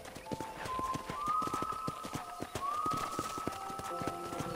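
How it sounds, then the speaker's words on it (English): Horse hooves clip-clop in a steady, trotting rhythm in the video game Red Dead Redemption, moderately loud and close, with faint background sounds and no talking. "I picked out a fine horse for you. Giddy up!"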